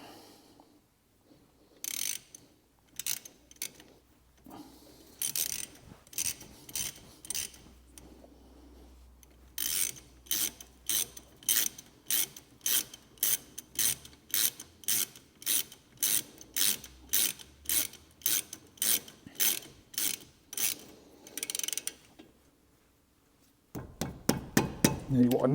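A 10mm socket wrench ratchets brake caliper bolts tight on a Vauxhall Mokka's front brakes, with long runs of sharp, rapid clicking close by, broken by short pauses and a brief spoken remark.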